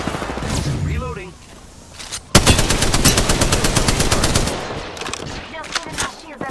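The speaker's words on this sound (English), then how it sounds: "Opening fire on the enemy." Rapid automatic gunfire in the video game Apex Legends comes as a loud, evenly spaced burst of shots lasting several seconds, following quieter game sounds.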